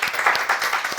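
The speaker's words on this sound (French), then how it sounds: "On peut applaudir le Seigneur." Church congregation at a Pentecost service clapping in a brisk, steady rhythm, close and lively, alone without talk.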